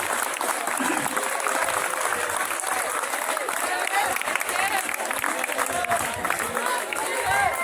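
A school audience claps loudly and steadily throughout, a dense patter of many hands with faint crowd murmur beneath it.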